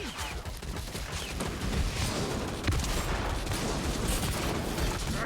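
A Skaven ratling gunner opens up in the game Vermintide, firing a dense, continuous rattling stream of rapid shots that fills the whole stretch at steady volume with no pauses.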